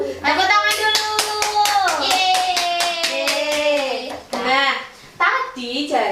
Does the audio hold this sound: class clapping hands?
yes